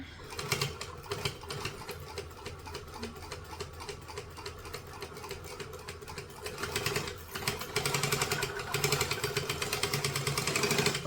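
A sewing machine stitches a thick vinyl bag corner through three vinyl layers plus lining and interfacing, giving a rapid, even mechanical chatter that runs continuously and grows louder toward the end.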